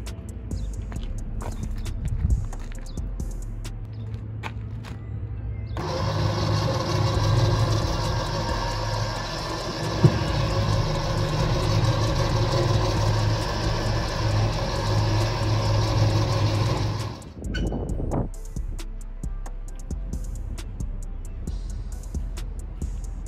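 A car engine turned back on, running at a steady idle for about eleven seconds with a loud, constant hum, alongside a winch setup on a U-Haul car transport trailer, with quieter handling noise before and after.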